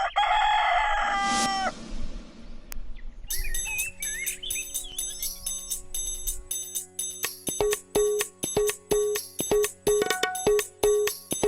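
A rooster crows once near the start, loud and close with a rising, drawn-out call, then gives way to a bright, rhythmic electronic tune of repeated beeping notes.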